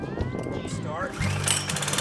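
A small gasoline push mower engine, freshly cleaned, cranks and sputters into a rough, uneven running drone with a loud rattling chug, close by, while a person talks over it.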